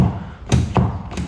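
Door locks on a Ford Fusion give a few short, solid clunks in quick succession, close and fairly loud, with no voices over them.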